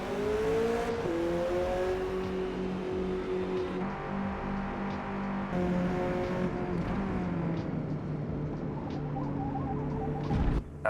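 A race car pulls away from a required pit stop in a sports-car (ST Group 2) race at Miami, its engine climbing steadily through the gears, close and loud and continuous, with a sharp revving spike near the end.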